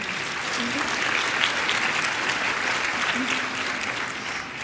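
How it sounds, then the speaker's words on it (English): Steady, sustained applause from a crowd, many hands clapping together at an even level throughout. "So please give yourselves a round of applause for being here."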